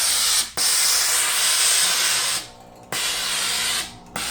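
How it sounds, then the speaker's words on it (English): Steam Station DG8624 garment steamer hissing loudly and steadily, with the spray cutting off briefly twice and resuming, each burst a broad close-up rush of steam. "I like to open this up and then I put the steam inside of it. Lots of steam coming off of that."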